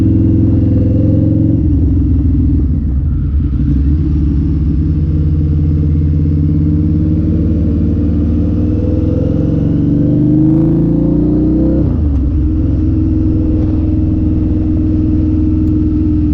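A stock Harley-Davidson V-Rod motorcycle engine while riding, with a loud, close, continuous low rumble with pitch rising and falling through gear changes and throttle, no talk over it.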